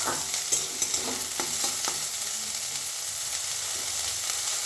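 Sabudana pulao fries and sizzles in a pan while being stirred, with a steady hiss and scattered scraping clicks of the spoon, close and alone.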